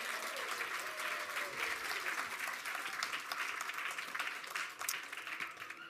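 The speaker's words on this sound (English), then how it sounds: "One more round of applause." Audience in a rotunda at a children's show gives another round of applause, steady crisp clapping from many hands that continues evenly for the whole stretch, fairly faint overall.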